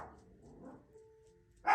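Dogs bark indoors, a few soft, scattered yips and whines, then one sharp, louder bark at the very end.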